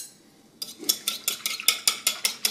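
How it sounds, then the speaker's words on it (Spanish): Aquafaba gets whisked into foam in a bowl, about a dozen quick, even strokes of rhythmic wet scraping and tapping, close and fairly loud after a brief quiet start. "Lo voy a batir para generar espuma."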